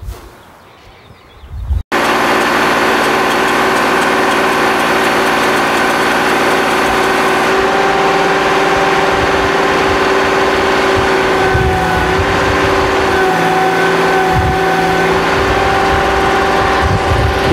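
A homemade bucket loader built in a yard shop cranks and fires, its engine settling into a steady, loud idle that holds up close for the rest of the clip.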